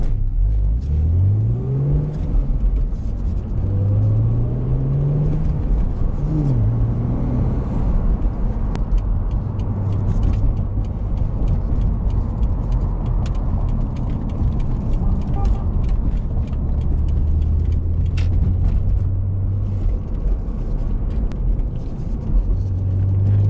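A BMW E85 Z4 engine runs steadily from the cabin while driving, a constant low rumble with rising rev sweeps as it accelerates through the gears, continuous throughout.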